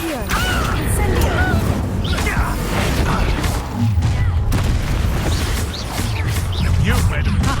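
Incendio fire spell cast in Hogwarts Legacy, loud whooshing bursts and booming impacts layered over dense game combat noise, close and continuous.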